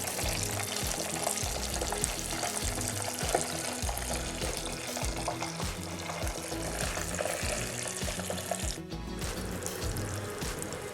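Paneer sticks deep frying in hot oil, a dense, steady crackling sizzle with bubbling that runs continuously and close up, with no voices over it.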